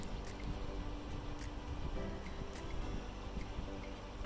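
Forest stream flowing beside a trail near Bragg Creek, a soft, steady watery rush with faint trickles and drips, quiet and even throughout with no talk.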